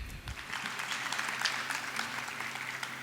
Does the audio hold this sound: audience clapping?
yes